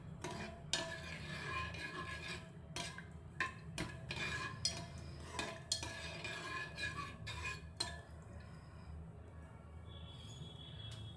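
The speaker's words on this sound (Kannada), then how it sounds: "ಒಂದ್ಸಲ ನೀಟಾಗಿ ಮಿಕ್ಸ್ ಕೊಡಿ." A spoon stirs and mixes homemade baby food in a metal pot, giving repeated sharp clinks and scrapes in an uneven rhythm. The sounds are close and there is no speech.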